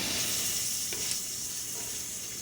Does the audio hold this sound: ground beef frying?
yes